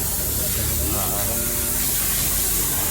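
An air blower cleaning dust from the aircon cabin of a Toyota Fortuner gives a loud, continuous hissing rush, with a voice speaking faintly underneath.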